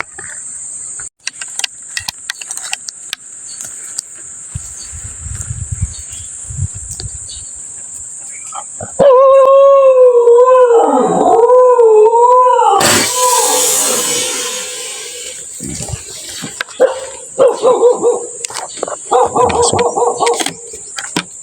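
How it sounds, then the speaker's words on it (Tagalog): A startled dog barks and howls outdoors near a riverbank during airgun fishing, loud wavering howl-like cries rising over insect chirps, followed by a burst of noise and a few shorter yelps. "Nagulat ako sa aso eh."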